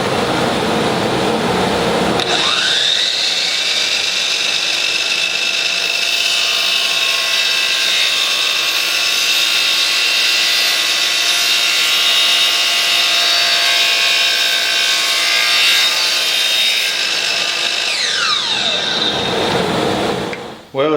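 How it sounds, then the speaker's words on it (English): A miter saw slices through a wooden piece for a newel post band, spinning up sharply, holding a loud steady whine through the cut for about fifteen seconds, then winding down, with no talking. "So that way I'll know where to cut when I take it to the miter saw."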